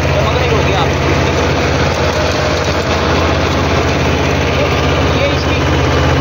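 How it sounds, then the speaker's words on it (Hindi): A Mahindra Jivo 225DI tractor engine runs under load while sowing fodder in wet, freshly soaked soil. It gives a loud, steady, low diesel drone that continues unbroken throughout. "ट्रैक्टर लोड बिल्कुल नहीं मान रहा भाइयों"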